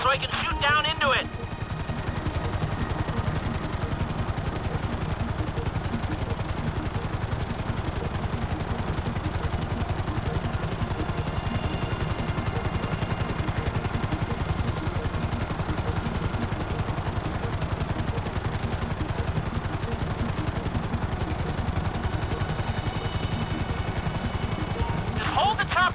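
A helicopter hovers in Grand Theft Auto V, its rotor churning in a loud continuous whir for the whole stretch, with brief clattering bursts at the start and end and game voices talking over it.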